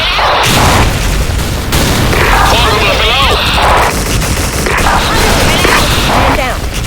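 Loud, continuous explosions and blasts in a video game, dense and rumbling throughout with little pause, with game sounds layered over the booms.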